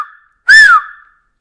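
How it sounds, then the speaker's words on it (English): A train guard's whistle on a railway platform gives one short, shrill, loud blast that rises slightly and fades, alone in quiet surroundings. "he waves a flag and blows his whistle"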